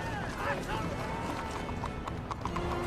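Horse hooves clopping at a gallop in the film The Lord of the Rings: The Return of the King, under a dense, busy soundtrack with music and voices, steady and fairly loud throughout.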